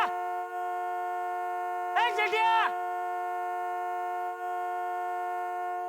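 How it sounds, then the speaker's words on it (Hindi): A car horn blares in one long continuous tone the whole time, with a brief voice calling out partway through. "अरे भाई इतनी जोर से हॉर्न क्यों बजा रहे हो भाई?"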